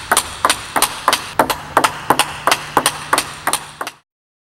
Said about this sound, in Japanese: 次はバックハンドでカウンタードライブを打ち合うドリルを紹介します。